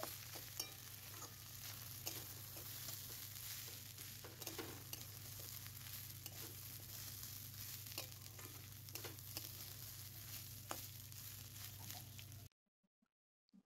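Food fries in a pan with a steady close sizzle and occasional stirring scrapes, running without a break until it cuts off near the end.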